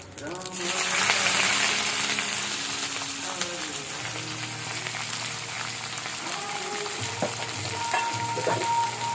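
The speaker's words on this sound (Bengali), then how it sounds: "এবার এটা একটু ভেজে নেব।" Chopped onions fry in hot oil with whole spices (bay leaf, cardamom, cinnamon, cumin) for a vegetarian green jackfruit curry, a steady close sizzle with occasional stirring scrapes and a few faint background sounds.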